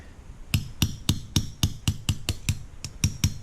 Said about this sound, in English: I'll just go ahead and remove the safety